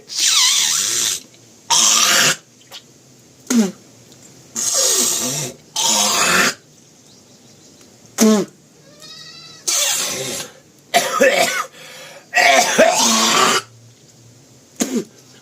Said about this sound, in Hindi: जितना आप खखार सकते हैं उतना खखार करके कफ